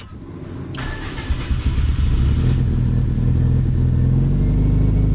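A Subaru WRX with a newly installed motor cranks briefly, then catches and fires up, settling into a loud, rough, steady idle that fills the rest of the moment up close.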